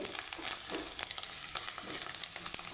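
Chillies, coriander and curry leaves sauté in hot oil for a North Karnataka style palya, giving a steady close sizzle dotted with light stirring clicks and crackles.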